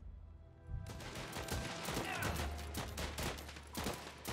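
Rapid gunfire crackles in the war strategy video game Last Train Home, a dense fusillade of sharp overlapping shots starting abruptly and continuing throughout at moderate loudness.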